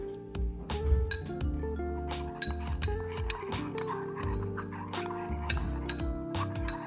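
Wax powder and water stirred in a bowl, with repeated clinking and scraping of a utensil against the bowl in an uneven rhythm, close and fairly loud, with no talk.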